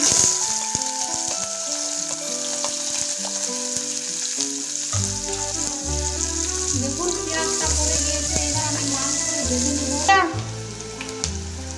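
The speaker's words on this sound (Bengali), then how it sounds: "আর এখানে আছে কুচানো পেঁয়াজ এবার তেলে ছেড়ে দিচ্ছি" Chopped onions drop into hot oil and fry with a loud, steady sizzle, a layer of musical tones running underneath; the crackle continues strongly throughout.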